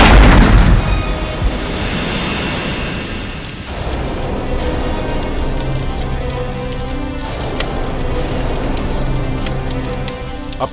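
A bomb blast blowing up a house opens with a loud, close boom, then debris and crackling rubble rumble on in a dense, continuous roar with scattered clatter for several seconds.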